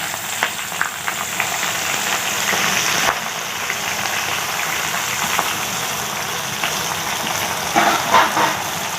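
Half a kilo of onions sautéing in mustard oil with garam masala, a steady loud sizzle and frying hiss that runs the whole time with light stirring scrapes and no talking.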